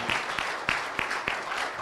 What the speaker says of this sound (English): Let's give him a better round of applause.